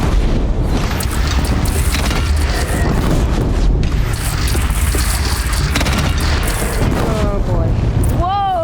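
A bridge in Horizon Zero Dawn is blown apart in a massive explosion, a loud sustained roar of booming blasts and crashing debris that rumbles on for several seconds, with a voice cutting in near the end.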